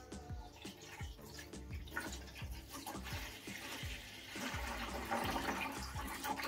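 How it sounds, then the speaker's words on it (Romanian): Water pours into the tank of a Levoit Classic 300S smart humidifier, a steady splashing fill close by that grows a little fuller and louder toward the end, with no talking. "dăm și pe ăsta jos și vom pune apă în ea"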